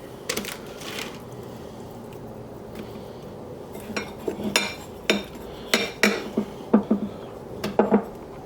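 Sole fillets are nudged around in a pan with a utensil, making a scattered series of light clinks and taps that grow more frequent toward the end over a quiet background.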